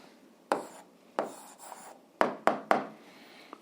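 Pen strokes on paper while an answer is written by hand during an 8th-grade algebra exercise, a handful of quiet, close scratchy bursts spaced irregularly over a silent background.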